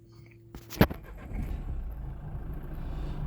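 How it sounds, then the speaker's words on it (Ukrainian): A 2017 Nissan with a 1.5 diesel engine starts with a sharp crank and catches, then settles into a steady low idle rumble, close and alone. "Заводиться автомобіль без проблем, немає жодних зауважень"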